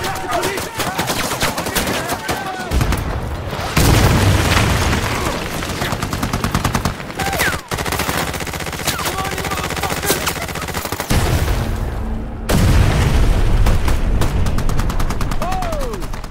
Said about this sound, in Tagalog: Agad na dumepensa ang mga sundalo at nagpaputok ng mga raket sa pinanggalingan ng mga putok.